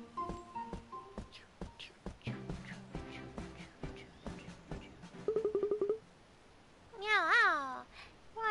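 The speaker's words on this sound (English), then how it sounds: "Why are there so many cats here?" Cartoonish cat meows from the video game Cat Quest, a rapid run of stuttering chirps followed by a longer wavering meow, after a stretch of babbling game chatter.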